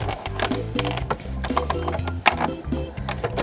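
A sewing machine runs a wide zigzag stitch, its needle producing a rapid, rhythmic mechanical clatter with pulsing low thumps and sharp ticks, close and fairly loud.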